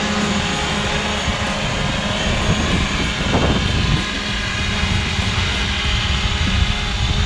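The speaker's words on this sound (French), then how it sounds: "Master du drone, j'ai fait le défi d'atterrir dans ce carré." A steady mechanical whine of a small drone hovering nearby in strong wind, attempting to land in a marked square, constant and loud, with wind noise rumbling underneath.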